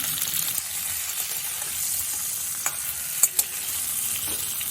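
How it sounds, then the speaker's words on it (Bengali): Sliced pointed gourd (potol) sizzling in hot mustard oil, a steady bright frying hiss with a couple of small crackles and pops, close and continuous with no talking. "এবার কেটে রাখা পটলগুলো আমি তেলের মধ্যে দিয়ে দিলাম"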